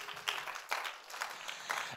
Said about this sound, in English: come on, give a round of applause for Jesus.